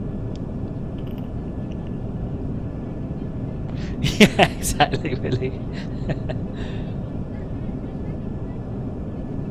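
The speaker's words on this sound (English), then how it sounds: "the engines sound amazing, don't they?" An FSLabs A319 airliner's engines in the Prepar3D flight simulator, climbing past 10,000 feet, give a steady broadband drone that runs under conversation, with a voice and chuckles on top.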